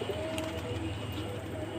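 Pigeons coo in a low, throaty, repeated rumble, close by and steady, with a brief higher sound partway through.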